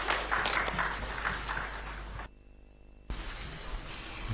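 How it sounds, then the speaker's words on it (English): A room of media members and guests applauding as Ghana's President Mahama is introduced, with steady clapping that cuts out abruptly for a moment before resuming. "Shall we give him a round of applause, please?"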